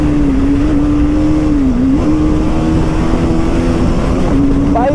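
A Royal Enfield Bullet motorcycle engine runs loud and close as a steady, throbbing drone whose pitch wavers slightly before a brief rise near the end, with road and wind noise underneath.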